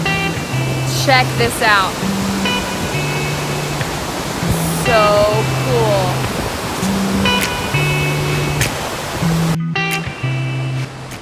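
A steady broadband rush of falling water at Fall Creek Falls State Park, Tennessee, runs continuously beneath background music and brief speech.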